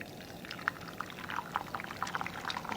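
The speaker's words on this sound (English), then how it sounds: "Now, pour the eggs in to the hot pan," Beaten eggs are poured into a hot pan for an omelette, giving a quiet run of liquid splashes and faint sizzling spread over a few seconds.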